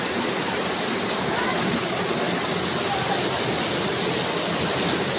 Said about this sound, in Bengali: বাংলাদেশের সব জায়গায় বৃষ্টি হচ্ছে।